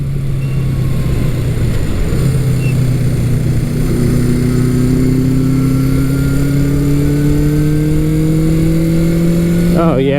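A 1975 Honda CB550 Four Super Sport with an inline-four 550 engine, heard up close as it pulls and revs, the pitch climbing steadily over several seconds with a brief rise at the end.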